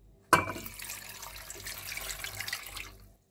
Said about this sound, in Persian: مقدار آبی که داریم رو اضافه میکنیم